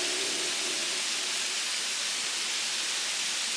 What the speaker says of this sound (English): Wow, look at this waterfall. It's huge.